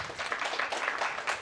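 Audience applause at a COP29 biodiversity session, a short burst of dense, even clapping from a room of people at moderate loudness.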